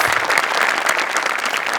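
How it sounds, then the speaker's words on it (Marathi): A comedy show audience breaks into loud, dense applause for the writer, a brief continuous burst of clapping. "त्यांच्यासाठी एक जोरदार टाळ्या"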